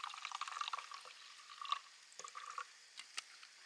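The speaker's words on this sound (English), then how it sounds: "Now I'm going to add about a 1/4 cup of vinegar, maybe a little bit more. I have apple cider vinegar." Apple cider vinegar poured into a salad dressing, a quiet, close trickle and splash of liquid in short uneven bursts with small drips between them.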